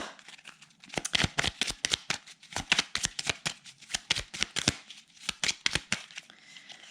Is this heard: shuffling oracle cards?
yes